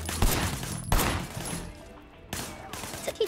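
Gunfire in the video game Sleeping Dogs: Definitive Edition, including shots at a TV; two or three loud bursts of rapid shots separated by brief quieter gaps, close and punchy.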